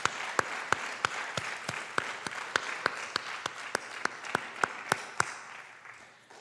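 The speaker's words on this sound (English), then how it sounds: "one last round of applause for everybody in here" Clapping from the audience at a high school academic awards ceremony for the junior class, a moderate crowd with a few loud, regular claps standing out above the rest, tapering off near the end.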